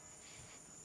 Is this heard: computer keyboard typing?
no